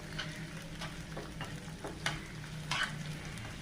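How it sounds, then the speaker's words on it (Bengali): Prawns frying in a pan for a red amaranth and prawn stir-fry, a constant crackling sizzle with intermittent scrapes and taps of a spatula, close and with no voices. "চিংড়ি মাছগুলো একটু ভেজে নেব"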